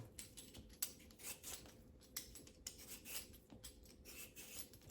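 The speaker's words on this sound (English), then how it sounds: "Next, we're going to peel them." Rhythmic rasping scrapes of a peeler stripping potato skins, repeated strokes about every half second, close and fairly quiet, with no voices.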